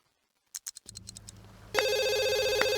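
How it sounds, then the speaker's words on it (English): A few short clicks and beeps lead into a bright electronic phone ring in The Sims 2, a steady trilling tone that begins abruptly and continues, no voices. "wait, the phone's ringing?"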